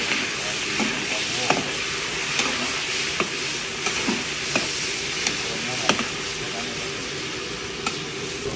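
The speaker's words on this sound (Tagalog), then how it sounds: "Napirito na ng konti yung tokwa." Tofu frying in a pan, a steady sizzling hiss with occasional sharp spatters and stirring clicks scattered through, sounding close throughout.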